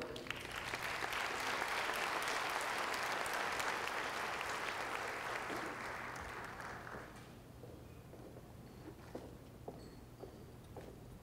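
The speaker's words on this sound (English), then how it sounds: "a warm round of applause" Warm applause from the audience at a chamber of commerce annual meeting and awards, a dense burst of clapping that holds strong for several seconds, then thins out to scattered claps.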